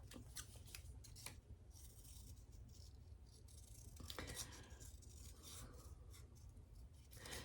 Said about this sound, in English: So let me cut this one out.